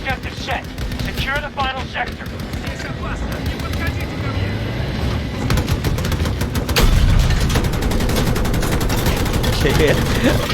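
Rapid machine gun fire in Battlefield 2042 Breakthrough mode, loud sustained bursts rattling on and off over aircraft and vehicle rumble, with a voice talking throughout.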